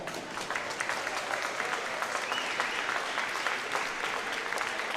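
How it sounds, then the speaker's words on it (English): Steady crowd applause ringing through a hall after a youth Silver Gloves boxing bout in Cleveland, Tennessee, moderately distant, with scattered cheers and a faint whistle mixed in. "All right, let's give these two warriors a big round of applause."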